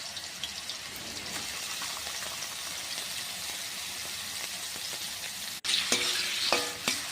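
Potatoes fry in hot oil with a loud, continuous sizzle and hiss, close up, with a brief cut near the end where stirring adds scraping, crackling and spatters.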